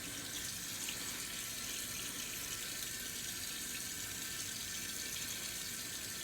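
Cold water runs steadily from a tap during a wet shave with alum, a continuous even hiss that stays constant and close with no voices.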